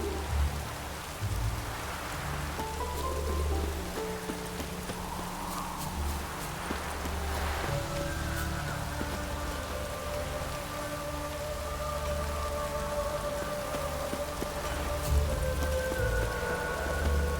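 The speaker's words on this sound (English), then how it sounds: "The sky weeps. Looks like rain." Steady rain falls in The Witcher 3 game world, a continuous wash of patter across the whole span with low rumbling ambience and occasional faint tonal game sounds, no voices.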